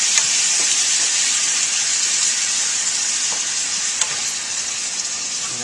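Chopped tomatoes and bacon sizzle loudly and steadily in a hot pan, a dense continuous frying hiss close up with faint stirring ticks, no talk.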